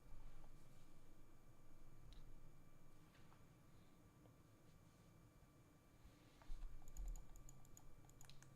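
Quick, light keystrokes on a computer keyboard tap in scattered bursts, faint at first and becoming a denser, louder flurry of clicks near the end, with no talking.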